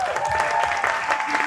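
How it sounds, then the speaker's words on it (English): A music showcase audience for a year-two music performance and production course gives a round of applause to the guest performers. Dense, continuous clapping fills the moment, with a faint steady tone humming underneath. "So a big round of applause for them,"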